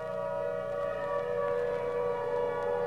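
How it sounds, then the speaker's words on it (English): A steady, wailing fire siren mounted atop a red brick engine house drones on without a break, sounding far off and holding a sustained tone. "Walking home from the supermarket, Nye hears the distant song of the fire siren."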